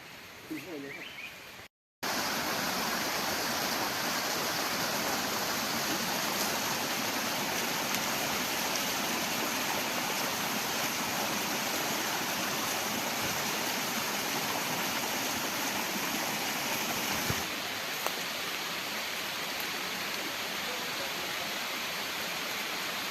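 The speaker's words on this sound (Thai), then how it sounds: "ฝนมาแล้ว" Steady broadband hiss of rain falling in a forest beside a stream, constant and fairly loud throughout, with a brief dropout near the start and a faint voice at one point.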